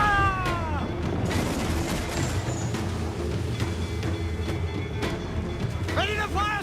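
Ship cannons boom in Assassin's Creed IV Black Flag during a naval battle, with repeated heavy blasts and rumbling over continuous battle noise and background chatter, while crew voices shout orders throughout.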